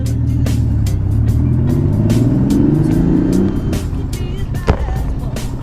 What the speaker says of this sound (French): Sous le magnifique bruit de cette Porsche.